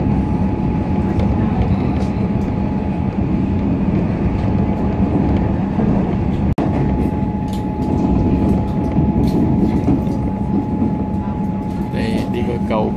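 Steady rumble of an electric commuter train in Melbourne heard from inside a carriage, a continuous close roar of wheels and motors with a faint hum throughout and no talk.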